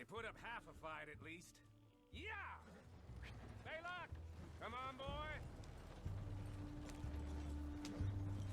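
Horse hooves clip-clop and a horse whinnies in Red Dead Redemption 2, mixed with game voices and a melodic score; the hoof beats sit low under frequent character dialogue.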